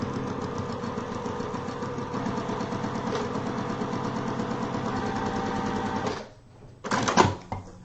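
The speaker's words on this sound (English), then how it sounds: "All right, so I've sewn my line." A domestic sewing machine stitches a seam for foundation paper piecing, running at a steady, rapid, continuous rhythm for about six seconds. It then stops, leaving a pause followed by a short burst of handling noise.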